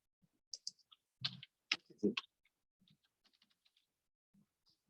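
Sparse, faint computer mouse clicks and light keyboard taps sound close in a quiet room, separated by gaps, with a short murmur of speech in the middle.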